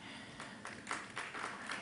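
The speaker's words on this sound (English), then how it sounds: "A round of applause for the expert from the bank's side." Audience applause at a cooperative banking summit, soft and fairly distant, a short burst of scattered clapping lasting under two seconds.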